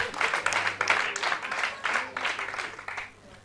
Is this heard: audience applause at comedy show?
yes